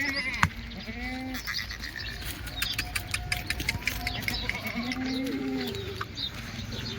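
Kathiawadi milking goats bleat repeatedly nearby, several wavering cries rising over a background of shuffling and farmyard clatter.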